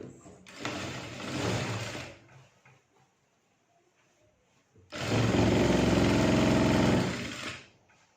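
Sewing machine stitching along a folded fabric edge while making pleats for a child's skirt, two bursts of steady rapid whirring separated by a quiet pause, close and moderately loud.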